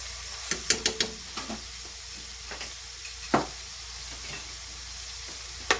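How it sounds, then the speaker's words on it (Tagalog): Garlic sautéing in a pan for bistek Tagalog, a steady close sizzle with several sharp scrapes and clinks of a utensil stirring, clustered early and recurring sparsely afterward, no talking. "Let's saute the garlic a little more"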